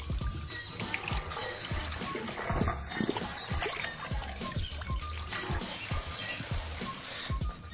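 Water is poured into a diesel irrigation pump engine in a farm field, a continuous splashing trickle close by, with scattered knocks and rustles throughout.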